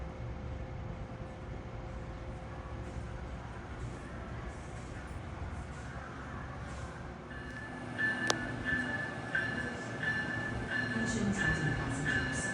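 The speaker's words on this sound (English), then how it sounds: "He's coming now. Train 98, Miami to New York." An Amtrak Silver Meteor, train 98 running from Miami to New York, passes through Trenton station as a steady, loud rail rumble, with a brief screech and rising wheel and track noise toward the end; no one talks.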